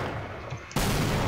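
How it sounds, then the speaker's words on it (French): A revolver fires in the Half-Life video game: one sudden, loud blast that cuts in abruptly and leaves a sustained roar of noise, with no talking. "Je vais essayer de les déglinguer vite fait au revolver"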